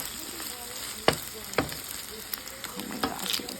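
Migas and egg with chile piquin frying in a pan, a steady sizzle broken by several sharp scraping knocks as the food is stirred.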